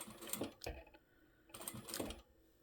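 Sewing machine stitching a quarter-inch seam along a curved heart-shaped fabric coin pouch, in two short quiet bursts of whirring needle strokes separated by a pause.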